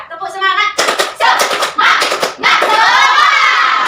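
A class of primary school children performs a rhythmic clapping chant, bursts of sharp claps in patterned groups, then ending in a sustained loud shout of young voices, close and energetic.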